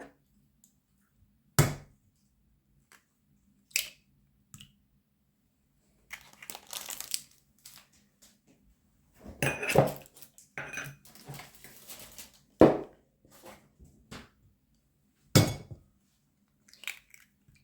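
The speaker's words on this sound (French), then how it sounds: "on va commencer par casser nos œufs" Eggs are cracked into a bowl in a home kitchen, giving several sharp, isolated taps and clinks of shell against the bowl, with soft handling rustles between them in a quiet room.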